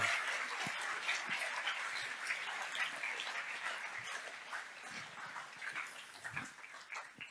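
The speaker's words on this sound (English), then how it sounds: "A round of applause for me, Bet" An audience applauds at a talk event, a sustained wash of many hands clapping at moderate distance that gradually tapers off.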